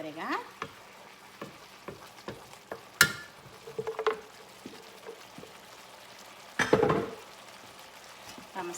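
Green beans hit a hot pan and sizzle, with the sound lifting into louder hissing bursts as they are stirred and tossed. Close spoon clatter joins in, and two sharp surges of spitting come a few seconds apart.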